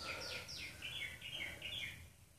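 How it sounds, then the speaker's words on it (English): Outdoor birdsong at a Florida villa on a hot day: a series of bright chirping calls, roughly five short bursts in two seconds, steady and fairly near over a low background rumble. "It's birds outside."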